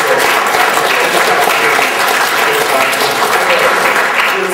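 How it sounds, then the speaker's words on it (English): An audience at a university lecture event breaks into loud, sustained applause, a dense steady patter of clapping from many hands with no voices. "Let's applaud her."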